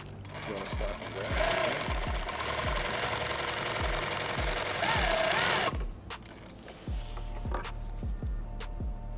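A sewing machine stitches an ankle med kit, its needle thumping in a fast, steady rhythm close by, pausing briefly and then resuming with a clattering drive under a constant motor hum.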